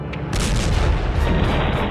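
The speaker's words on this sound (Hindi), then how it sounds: "वीडियो में जोरदार धमाके के साथ ही बुलडोजर एक जगह रुक जाता है।" A bulldozer bomb blast hits as a loud, heavy explosion that sets off a sustained, dense rumble, which stays powerful and continuous to the end.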